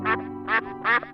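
Three loud, nasal geese honks sound up close in quick succession as a sound effect in a Catalan narrated fairy tale, with no voice over them.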